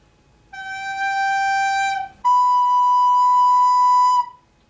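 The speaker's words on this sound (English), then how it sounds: "I played the lower note and then I ascended up a third to the higher note from G" Two sustained keyboard notes, a G followed by the B a third above, each held for about two seconds, clear and alone with a brief gap between them.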